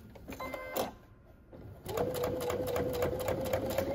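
A sewing machine stitches fabric for a casserole carrier, starting after a brief pause and then running steadily with a fast, even mechanical whir and rapid needle ticking, close and clear.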